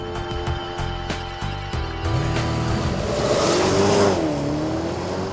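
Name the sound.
Porsche Panamera Turbo engine accelerating in Sport Plus mode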